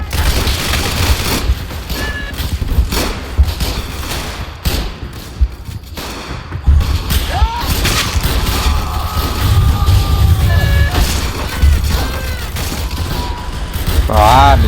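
Dense gunfire in a Roblox World War I battle game: rattling machine-gun bursts mixed with rifle shots and booms, continuous and loud throughout, with a voice talking over the action.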